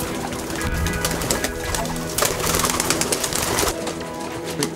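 Pigeons in an Amsterdam pigeon fancier's loft coo continuously, several birds overlapping in a dense, steady chorus of soft rolling calls close by.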